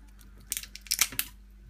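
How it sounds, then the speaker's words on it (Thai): Scissors snip through a grilled shrimp from a fish market, a quick series of sharp, close crunchy clicks clustered together, with no talking. "ก็ใช้กรรไกรตัดเลยใช้กรรไกรตัดก่อน"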